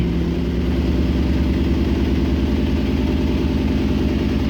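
The engine of a 1967 Jeep Gladiator, dormant for over 30 years, runs as the clutch is let up: a loud, close, steady low rumble with an even pulsing throb throughout.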